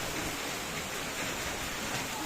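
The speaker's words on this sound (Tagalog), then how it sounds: "Ito na naman ang baha! Ang lakas ng agos" Strong floodwater rushes continuously after days of nonstop rain, a steady broadband hiss and roar with no voices over it.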